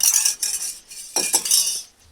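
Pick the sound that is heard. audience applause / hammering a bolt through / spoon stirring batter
spoon stirring batter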